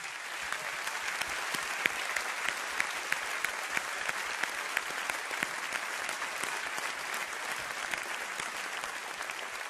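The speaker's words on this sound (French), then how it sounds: "Si on peut l'applaudir" An audience at a French song awards ceremony applauds warmly, a dense, even roar of many hands clapping that carries on steadily for about ten seconds with no one speaking.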